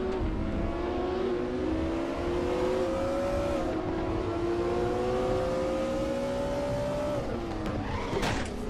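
A rear-wheel-drive classic touring car in RaceRoom at Mantorp Park, its engine droning steadily at high revs with pitch shifts through gear changes and some tire squeal, loud and continuous throughout.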